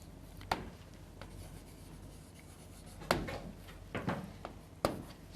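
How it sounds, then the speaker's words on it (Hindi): Chalk or marker scrapes and taps against a board during a biology lesson, a few faint strokes and sharper knocks over a steady hiss of room noise, with no talking. "यहाँ पॉइंट्स लिख लेते हैं हम लोग।"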